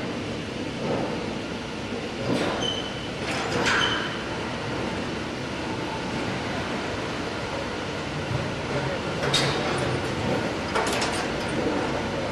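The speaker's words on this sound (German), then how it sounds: "Viele Werkhallen haben noch einen Gleisanschluss oder werden von der Bahn durchfahren." An industrial works railway train rolls through a factory hall in the Czech Republic, giving a steady loud rumble with scattered metallic clanks and squeals echoing in the enclosed space, and no one speaking.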